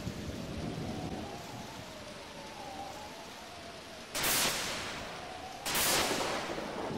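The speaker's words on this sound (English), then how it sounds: "Ooh, it's raining." Rain falling in the game Pokémon Mystery Dungeon: Explorers of Sky, a steady hiss of noise with two louder bursts like thunder claps, and a faint melodic tone running through it.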